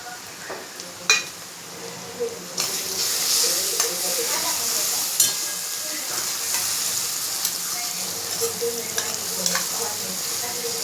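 Cooked whole masoor lentils land in sautéed masala and oil for a curry, sizzling and hissing steadily throughout with scattered spatula scrapes and pops, close and fairly loud.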